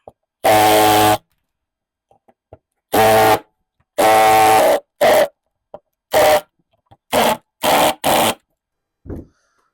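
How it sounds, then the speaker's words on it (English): A power drill whirs in a series of short, loud bursts of varying length, separated by silent pauses, close to the microphone, drilling out a stripped screw during a Subaru EJ25D engine teardown. "that one's stripped, so we're gonna have to drill that one out."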